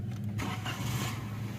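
Starter motor cranking a Suzuki Alto engine with a low idle fault, a steady close whirring churn that runs continuously without speech.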